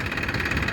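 A tractor engine runs steadily with a trolley hitched behind it, giving a continuous close rumble with no break and no voices.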